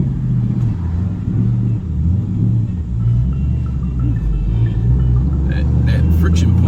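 Lexus LS400 with a manual transmission swap and a McLeod clutch kit on a test drive, its engine a steady low rumble in the cabin as gears shift through.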